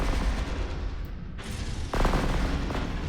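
Rapid weapons fire crackles in the space game Astrox Imperium, a dense, loud barrage with heavy rumbling booms that briefly drops away and then resumes.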